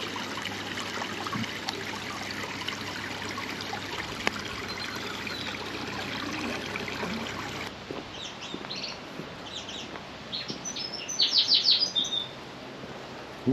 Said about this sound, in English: Yeah, plenty of canaries in an aviary.